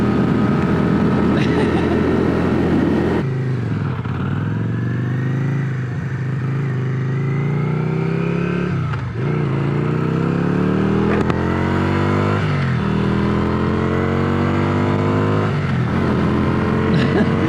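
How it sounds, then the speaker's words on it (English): A small-displacement motorcycle runs at full throttle in top gear at about 65 mph. Its engine drones steadily and loudly with wind rush, and a rider talks over it. "you twist this throttle and it's not going anywhere"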